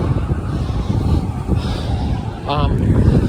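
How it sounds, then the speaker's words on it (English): Strong wind roars steadily across the microphone while riding an ElliptiGO along La Rambla, a loud continuous low rumble with a brief faint voice-like sound partway through. "sometimes you're biking against extreme wind in one direction"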